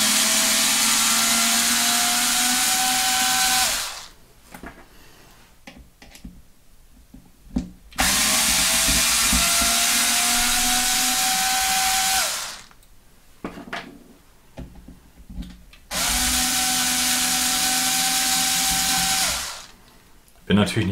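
An electric screwdriver backs screws out of a Corally RC car in three long whirring runs that climb in pitch. Short clicks and handling noise fill the pauses between runs, and a fourth run starts right at the end.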